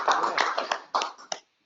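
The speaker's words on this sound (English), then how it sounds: "let's give him a round of applause" Brief applause from a small audience at a talk on setting up and tuning model sailplanes, a few bursts of claps close by that die out after about a second and a half.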